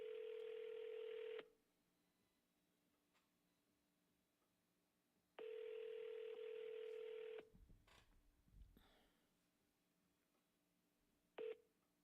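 Telephone dialing tones play in two long bursts a few seconds apart, then a brief final beep, clear and alone over a quiet line during a sales call.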